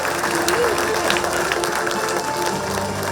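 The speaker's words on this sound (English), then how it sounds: "Please join me in applauding Mr. Dinesh Kumar as we honor him with the Rising Star Research and Development Award" An audience at a college celebration applauds Mr. Dinesh Kumar as he receives the Rising Star Research and Development Award. The clapping is a steady, moderately loud wash with faint crowd murmur.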